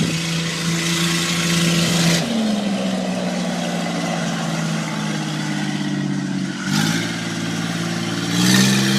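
A Gator utility vehicle with a straight-piped exhaust revs its engine, the loud, raspy tone rising and falling through several throttle blips, heard up close and alone.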